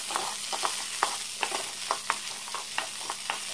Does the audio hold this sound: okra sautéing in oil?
yes